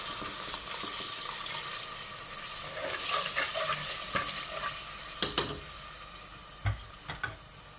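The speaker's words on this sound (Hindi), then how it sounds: "तो इसको अच्छे से हम मसाले को भून लेंगे।" Masala frying and being stirred in soup stock for a Gujranwala-style quail (bater) curry, a steady sizzle with scraping stirs and a few sharp utensil knocks near the end.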